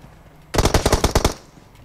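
Rapid burst of automatic gunfire in a battle royale video game, about nine sharp shots in quick succession, loud and close, starting after a brief quiet and ending abruptly.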